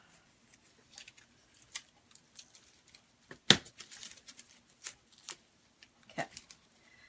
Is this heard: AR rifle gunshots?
no